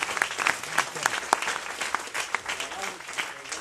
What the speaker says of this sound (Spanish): Dale ese fuerte aplauso al Rey de Reyes